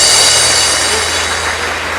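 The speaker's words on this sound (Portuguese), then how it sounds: "vamos aplaudir ao Senhor Jesus, meus amados, bem forte" A church congregation applauds loudly during a worship service, a dense, steady wash of clapping that fills the space without a break and fades slightly toward the end.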